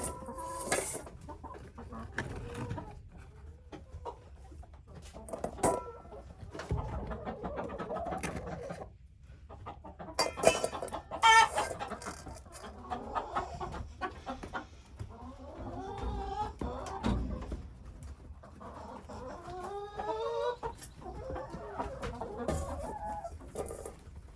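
Chickens clucking and murmuring nearby, with scattered louder squawks and calls rising and falling over a steady low background hum.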